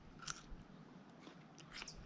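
A crunchy nashi Asian pear bitten and chewed on an off-grid homestead in central Portugal: a few faint, crisp crunching bites spread across a quiet background.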